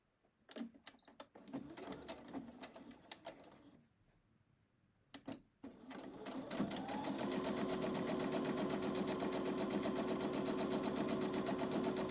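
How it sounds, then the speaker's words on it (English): A home sewing machine stitches fabric at a stress corner: short start-stop bursts of stitching, a brief quiet pause, then a long continuous steady whir of the motor running close and loud. "I'm going to backstitch because this is a stress corner"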